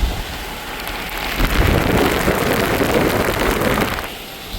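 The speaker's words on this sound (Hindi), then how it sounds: "इस तरीके की बारिश है यहाँ पे भी।" Heavy rain pounds a car during a drive near Ghaziabad toward Vrindavan, a dense loud roar of drops on the vehicle with a rumbling low undertone, steady throughout and swelling in the middle.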